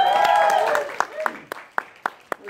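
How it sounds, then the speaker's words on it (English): Scattered clapping from a convention gala audience at a band's introduction, sparse separate claps following a sustained tone and voice at the start. "if I could get a warm round of applause for my bandmate"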